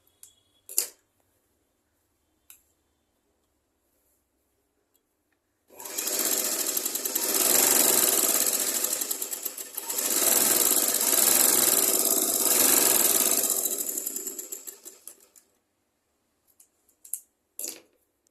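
A sewing machine stitches a folded hem on a skirt-and-blouse garment in one long continuous whirring run, with a short dip midway, and a few clicks before and after in the quiet.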